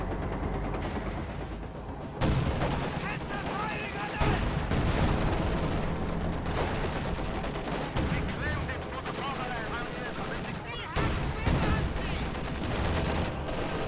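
Anti-tank gun and battle fire in a Reign 2 real-time strategy match, dense booming shots and rattling gunfire over a continuous battle din, with a commentator talking over it.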